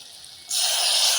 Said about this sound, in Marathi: आता मी सहा वाट्या पाणी टाकून घेणार आहे याच्यामध्ये